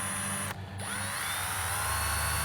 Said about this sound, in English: just using a 1/4 inch drill, not an impact, just the drill so I can feel any issues with the bolt